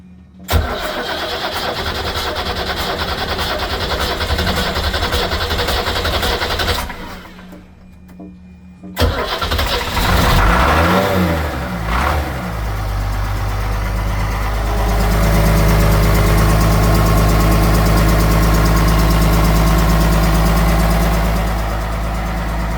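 A 1986 Universal Trawler 36 Europa boat engine cranks and catches after a brief pause, then settles into a steady, loud, low idle with a faint electronic start-up alarm tone running across it.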